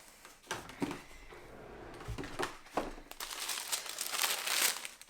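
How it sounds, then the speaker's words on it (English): Tissue paper crinkles and rustles while a Dior package is unwrapped, in several close, crisp bursts that build into a denser, louder rustle near the end. "So we have some tissue paper here"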